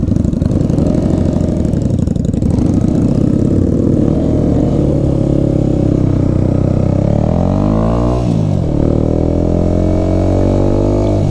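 A motorcycle with a sticking throttle runs loud and close, its engine holding a high steady drone before the revs sweep down and climb again near the end.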